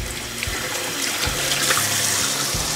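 Hot tap water runs steadily from a kitchen faucet while something is rinsed off, a loud continuous splashing hiss with small clunks underneath.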